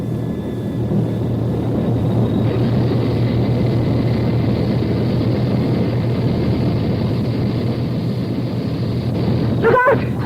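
A jet aircraft taking off in a radio drama sound effect, a loud steady roar with a thin high whine holding for about ten seconds, then a brief sharp clatter at the very end.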